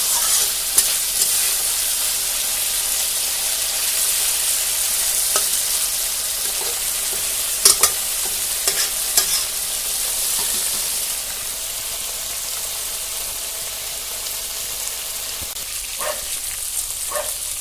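Pointed gourd pieces frying with poppy seed paste and spices in a pan, a steady close sizzle with scattered scraping stirs and occasional louder clicks, no voices.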